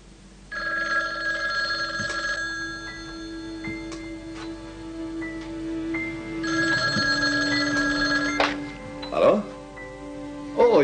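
An old-fashioned telephone bell rings twice in long bursts with a pause between them, clear and close in a quiet room, followed by brief handling clatter as the receiver is picked up.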